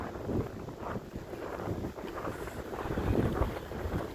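Strong wind on a snowy morning at minus 18 degrees buffets the microphone in loud, uneven gusts that swell and ease throughout, with no talking.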